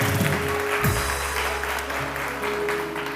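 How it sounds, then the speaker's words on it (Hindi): Studio audience applause on a TV One morning show, a steady dense wash of clapping held at a fairly even level throughout with no talk over it. "सलमा आसिम के लिए बहुत सारी तालियां"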